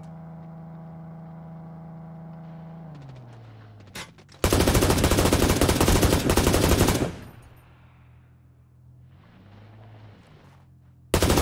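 Video game gunfire: a dense, loud burst of rapid automatic shots lasting a few seconds after a low engine-like hum, followed by quieter rumble and the start of another burst.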